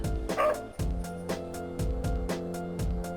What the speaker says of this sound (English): That was a random bark